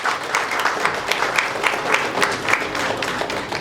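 Dense, steady applause from an audience at a Tamil film press meet, many hands clapping together at close range for several seconds with no talk over it.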